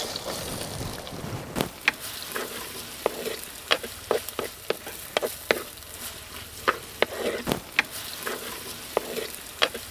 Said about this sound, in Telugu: అల్లం వెల్లుల్లిపాయ ముక్కలు 2 నిమిషాలు వేయించుకున్న తర్వాత ఉల్లిపాయ ముక్కలు వేసుకుందాం.